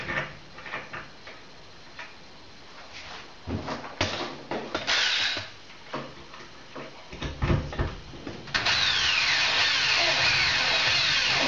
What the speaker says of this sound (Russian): Для крепежа держателя я буду использовать специальные саморезы по металлу, вот с такой вот мелкой резьбой.